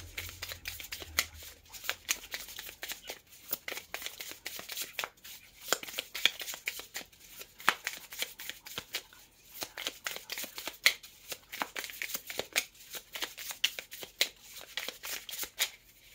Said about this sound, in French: J'ai les cartes qui se retournent.